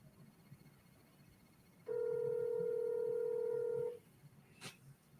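A single steady telephone tone holds for about two seconds during a phone call, loud and clean over quiet room noise, followed by a brief click.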